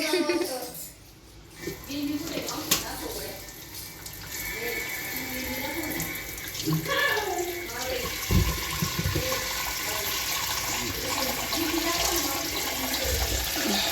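Tap water runs steadily into a vessel to soak five mangoes in a home kitchen, a continuous rushing splash lasting throughout, with someone talking over it.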